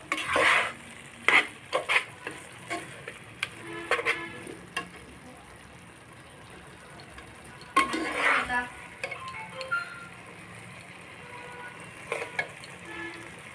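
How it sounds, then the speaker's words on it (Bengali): Banana flower curry stirred and fried in a pan, with irregular bursts of utensil scraping and clinks against a faint background sizzle, scattered across the clip and quieter in between. "আমি ভালোভাবে নেড়ে চেড়ে আরও দুই মিনিট ভেজে নিয়ে চুলাটা অফ করে দেবো"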